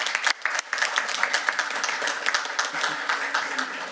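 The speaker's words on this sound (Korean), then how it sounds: "박수로서 마무리하겠습니다" An audience applauds at the close of a panel discussion at a Korean shipping and shipbuilding strategy seminar, a dense burst of clapping that starts sharply and carries on steadily for a few seconds.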